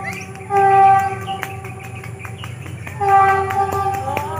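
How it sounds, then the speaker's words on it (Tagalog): A passenger train on the Legazpi to Naga City line pulling into a station, with steady rumbling rail noise and two long sounding horn blasts, fairly close and loud, with no talking. "nandiyan na yung train"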